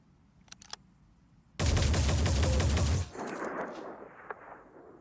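Turret gunfire in the Phoenix Point video game: a loud, sustained rapid burst of automatic fire lasting about a second and a half, then fading into lower rumbling combat noise.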